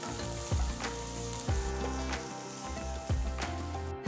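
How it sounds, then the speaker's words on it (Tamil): Green chili and curry leaves sizzle in hot oil during sautéing, with a steady close frying hiss broken by a few stirring scrapes at roughly one-second intervals, with no talk. "1 பச்சை மிளகாய் பொடியாக நறுக்கினது, அப்புறம் கொஞ்சம் கருவேப்பிலை பொடியாக நறுக்கினது சேர்த்து வதக்குங்க"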